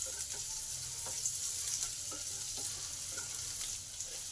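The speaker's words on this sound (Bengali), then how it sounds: "রসুনটাকে ভালো করে ভেজে নেব।" Garlic frying in oil in a pan, making a faint, steady sizzle with a few light scrapes and clicks on top, close and quiet.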